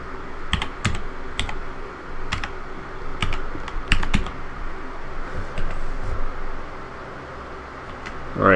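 Computer keyboard keys pressed while playing modded GTA San Andreas on PC: scattered clicks, some in quick pairs, sit close over a steady whooshing fan-like background hiss, fading to sparse taps later.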